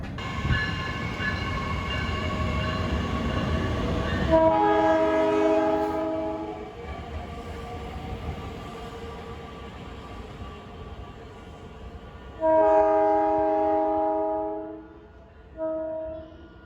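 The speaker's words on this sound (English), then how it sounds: "Here comes my train at Hammond, going to Chicago." A South Shore Line commuter train rumbles past steadily at Hammond, Indiana, and its horn blasts loudly once, then sounds again twice later in shorter bursts.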